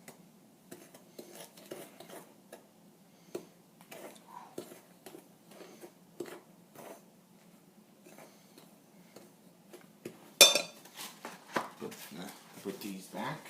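A utensil clinks and taps against a bowl while eggs are mixed into Pepsi cake batter, with soft, irregular knocks and a louder clatter near the end, under faint voices.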